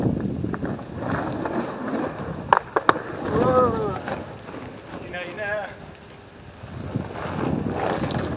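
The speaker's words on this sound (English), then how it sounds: "I tried to do a fucking backside 180, but it's fucking wet everywhere" Skateboard wheels roll over wet ground at a skate spot in Jackson, Mississippi, with a few sharp board clacks from an attempted backside 180, under wind noise and some voices.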